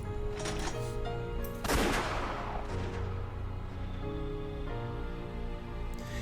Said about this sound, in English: Eva raised the gun and pulled the trigger. An explosion resounded